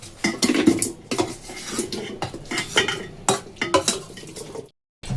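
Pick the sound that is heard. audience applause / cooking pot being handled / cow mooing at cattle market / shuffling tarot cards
cooking pot being handled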